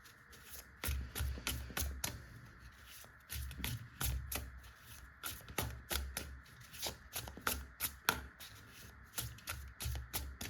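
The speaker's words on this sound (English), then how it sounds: "I will shuffle again." Tarot cards are shuffled repeatedly in quick, crisp riffling bursts with steady rhythm, close and clear, with no talking.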